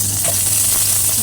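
Onions sautéing in hot oil in a pan for chicken humba give a steady, loud, close sizzle with a dense hiss throughout.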